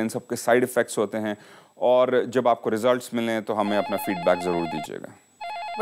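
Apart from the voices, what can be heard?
telephone ringing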